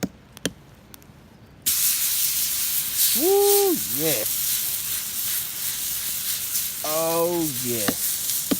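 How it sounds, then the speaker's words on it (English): Loud, continuous sizzling of New York strip steak frying on a hot campfire rock, a man exclaiming excitedly over it a couple of times. "I just wanted to share the sizzle."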